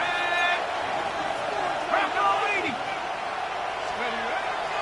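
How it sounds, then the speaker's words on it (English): A stadium crowd in a football video game roars as a steady, loud wash of noise, with a commentator's voice talking over it throughout. "This crowd trying to be a factor, getting very loud now."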